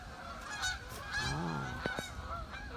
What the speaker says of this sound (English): lots of geese flying around